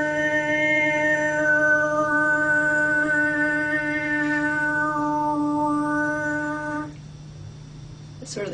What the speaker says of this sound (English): So, this is actually called overtoning,